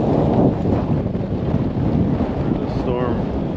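Strong wind roars and buffets across the microphone aboard a steel sailboat as a storm approaches, a loud, continuous gusting rush with a low rumble underneath.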